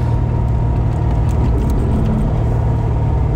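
A Chevrolet Corvette Z06 with a 7000 cc engine producing 505 horsepower drives on a track, its loud, steady engine rumble droning close throughout.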